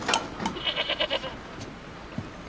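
A goat bleats in a quick, wavering series of short cries, fairly faint and set against quiet ambient noise in a scene from The Walking Dead.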